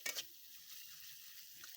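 Soft sizzling of fried rice with chicken, soy sauce and tomato sauce being stirred in a hot pan, opening with a brief scrape of the utensil, then a quiet steady crackle.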